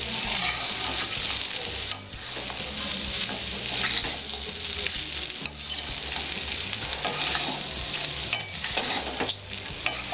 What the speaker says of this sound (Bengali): চিড়ের পোলাওটাকে আমি ভালো করে নাড়াচাড়া দেবো।